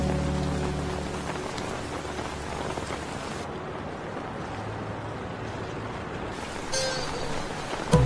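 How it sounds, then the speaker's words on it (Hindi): Steady rain pours down in a continuous, even hiss, loud and close throughout, with a brief low rumble near the end and no talking. "मुझे पता है बारिश हो रही है"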